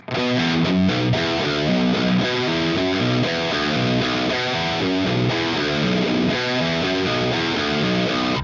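A heavily distorted low seven-string guitar chugs through a fast, repeating sixteenth-note riff with quick open-string pull-offs, loud and unaccompanied.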